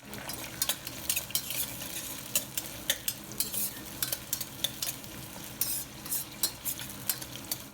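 Bay leaf, cardamom, mint and green chillies frying in a pan for coconut rice, a steady soft sizzle broken by frequent sharp clicks of a spoon stirring against the pan, no voices.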